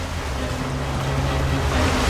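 Crashing sea waves roar steadily in a storm on the coast, a dense, loud, continuous surf with a low rumbling undertone and no break or voices.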